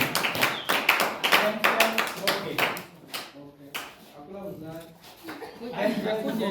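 Hands clap in bursts among a gathering at a thanksgiving mass at a special school, with sharp uneven claps mixed with speech and chatter, fading briefly midway before picking up again.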